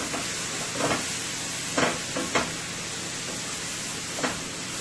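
Fish and vegetables sauteing in a pan for a Guyanese-style fry fish stir fry, a steady broadband sizzle with a few brief louder bursts as the food is stirred, close and alone without talk.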